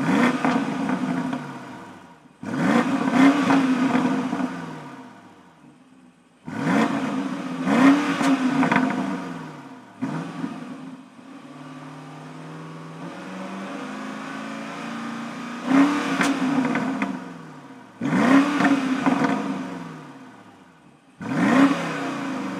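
A BMW X6 M50i V8 in sport mode is blipped repeatedly while parked, each rev swelling to a loud, throaty roar before dropping back to a lower idle burble, with about six distinct pulls separated by brief lulls.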